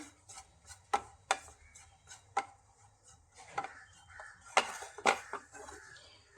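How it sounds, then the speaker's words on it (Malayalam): Peanuts are stirred in a pan with Kashmiri chili powder and garam masala, giving sharp, irregular scraping clicks of a spatula against the pan, close and moderately quiet. "ഇനി ഇതെല്ലാം കൂടി നന്നായിട്ടൊന്ന് വഴറ്റാം"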